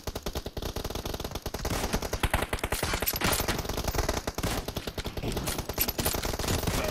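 Gunfire in a multiplayer shooter video game, with rapid automatic bursts and rattling volleys firing almost without pause, loud and dense throughout, with no talk.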